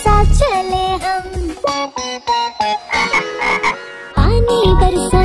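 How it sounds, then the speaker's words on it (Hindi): Frog croaks fill a playful Hindi children's rain song, coming as a run of close, bright, repeated calls over the melody, loud and prominent with a short gap before a final burst. "कीचड़ में से मेंढक निकला मेंढक के साथ चले हम"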